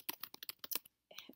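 Quick clatter of keystrokes typed into a web browser's address bar, several rapid clicks in a burst, then a pause and a few softer taps, close and fairly quiet.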